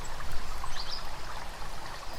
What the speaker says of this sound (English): Just some water with some birds.